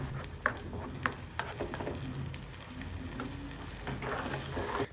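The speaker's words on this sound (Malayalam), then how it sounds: "നന്നായിട്ട് എണ്ണ തെളിയും വരെ ഒന്ന് വഴറ്റി കൊടുക്കുക കേട്ടോ" Onion and tomato sautéing in oil in a pan, a steady close sizzle and crackle with a few sharp stirring clicks and scrapes against the pan, no voices.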